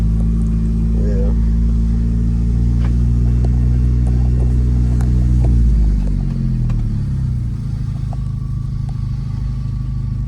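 Car engine running steadily during a test drive up a hill, a deep continuous rumble that holds loud and close, dropping in pitch partway through as the gear or speed changes; a vehicle with a suspected shift tower problem.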